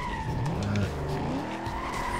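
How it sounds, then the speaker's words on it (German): Car tires skid and squeal under a revving engine in the racing game Need for Speed Most Wanted (2005), a loud, continuous slide lasting about two seconds with no talk. "Hör auf zu schlittern!"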